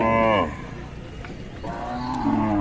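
A cow moos loudly and close by, then after a short pause another long, lower moo follows, with faint farmyard noise between the calls, among a group of cows and calves.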